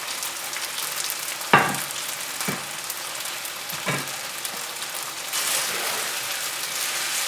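Pad thai noodles with shrimp, eggs and broccoli sizzle steadily in a pan. A sharp utensil clack comes near the start, then softer scrapes and tosses, and the frying swells louder toward the end, with no voices.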